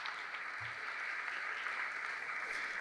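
Steady applause from a crowd, a continuous even patter of clapping with no voices standing out.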